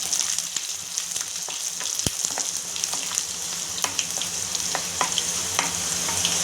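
Mustard seeds and garlic sizzle in hot oil for a tempering. There is a steady crackling fry with scattered sharp pops and spatula scrapes, loud and close, with no voices.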